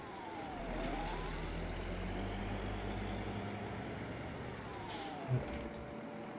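Truck air brakes in a farming video game, a steady low engine rumble throughout with a brief hiss of released air near the end, with no talking.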